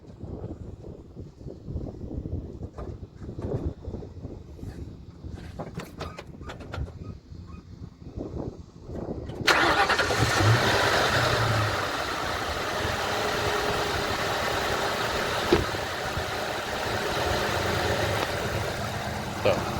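A 2004 Ford Mustang, recently repaired in its charging system, cranks and fires up abruptly partway through, then settles into a steady, fairly loud idle after a stretch of quieter background noise and handling sounds.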